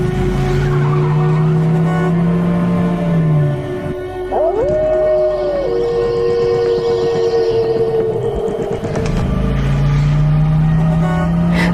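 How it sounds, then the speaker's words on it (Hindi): A car engine starting and revving as the vehicle pulls away, with loud rising engine tones and a tire squeal in the middle before the drone returns, close and alone with no talk. "गाड़ी ऑन करके वहां से निकल जाता है।"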